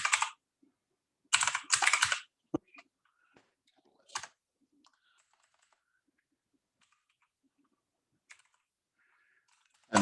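Typing on a computer keyboard comes in short bursts of crisp clicks, then scattered single keystrokes and a final tap, close and isolated with silence between.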